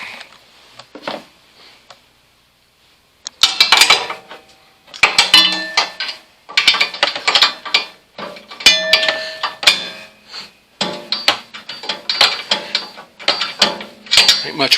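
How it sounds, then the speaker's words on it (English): Socket ratchet loosening the sliders on a Craftsman 10 inch table saw, bursts of quick metallic clicking ratchet strokes with short pauses between, close and fairly loud. "I'm going to loosen those sliders first, just using a socket"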